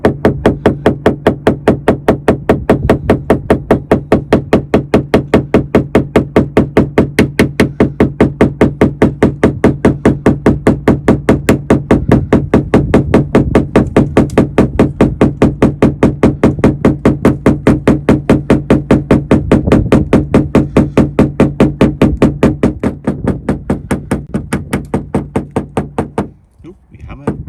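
Rapid, steady hammering on the bodywork of a BMW Z4 while pulling out dents, loud close metallic knocks repeating evenly for nearly half a minute before stopping.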